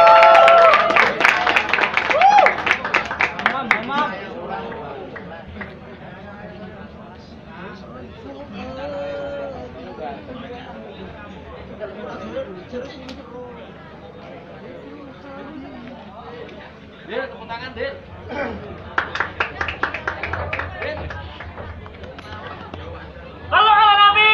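Applause and clapping from an audience at a hadrah festival, a loud burst at the start and another rising near the end, with crowd chatter and an announcer's voice over it in between.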